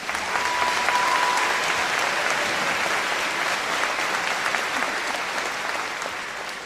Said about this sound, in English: Let's give all these students in these various activities a round of applause